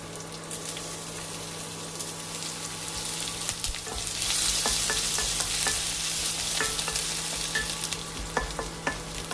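Curry leaves, dried red chillies, garlic and ginger fry in hot oil, giving a continuous loud hiss and crackle that swells midway, with scattered scraping stirs close by and no voices.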